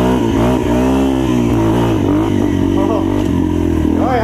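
Modified, uncorked 2016 Yamaha TTR230 dirt bike with a rejetted engine, running loud and steady close by, a dense buzzing exhaust note with small rises and dips in revs throughout.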